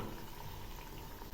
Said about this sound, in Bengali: একদম কড়া করে ভেজে নেব